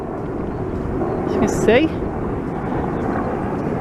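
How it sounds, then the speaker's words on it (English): Helicopter flying over a seaside beach, a steady broadband rotor and engine drone that stays at a distance, with wind on the microphone and someone speaking briefly over it. "Near the helicopter over there."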